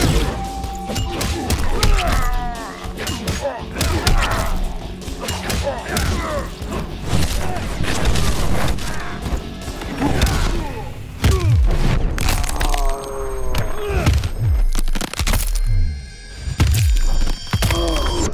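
Punches, kicks and heavy thuds from a Mortal Kombat X fight land in a dense, continuous barrage, loud and close, mixed with game music, announcer calls and character voices throughout.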